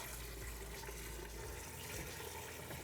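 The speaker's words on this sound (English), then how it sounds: "Cover that in cold water." Cold water pours steadily over raw chicken in a stock pot on a stove, a continuous rushing splash at low volume throughout.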